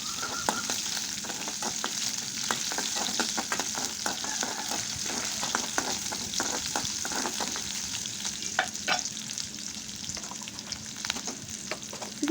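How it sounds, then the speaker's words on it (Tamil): Shallots frying golden in hot oil with curry leaves in a pan, a continuous close sizzle broken by frequent sharp crackles and the scrape of stirring, no talk. "போட்டுட்டு இதை நல்லா பொன்னிறமாக வறுத்து எடுத்துக்கணும்"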